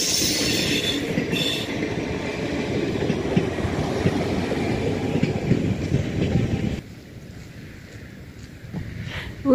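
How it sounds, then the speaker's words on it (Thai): A train rumbles past at close range in Norway, with a steady, loud roll of wheels on rails and a faint squeal, then cuts off abruptly to near quiet for the last few seconds. "มาอีกแล้วรถไฟ"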